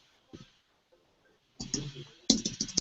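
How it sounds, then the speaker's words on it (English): Computer keyboard keys click in quick bursts as a reply is typed, a single tap early on, then a flurry of close, crisp keystrokes toward the end. "you can actually start typing here."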